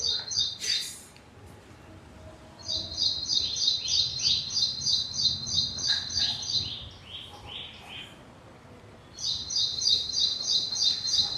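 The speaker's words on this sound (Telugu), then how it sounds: "పొద్దునే మా పిట్ట కూడా మీద కూర్చుంటే పిచ్చుకలు చేసే సౌండ్," Sparrows chirp in the morning in rapid repeated tweeting runs, close and clear, pausing briefly before starting again, with faint household background beneath.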